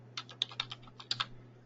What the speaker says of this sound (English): You're typing up your amendment